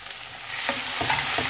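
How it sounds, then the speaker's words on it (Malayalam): Chopped tomatoes go into a hot frying pan for aloo palak and are stirred, bringing a rising sizzle with a few quick scraping strokes of a spoon, close and brief. "ഇതിനകത്തേക്ക് നമുക്ക് തക്കാളിയും കൂടി ചേർക്കാം"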